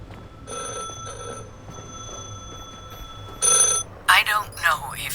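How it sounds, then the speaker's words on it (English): A telephone rings inside the video game The Last Caretaker, two or three bursts of electronic ringing over a low ambient hum, followed by a sharper chiming tone near the end. "The phone is ringing."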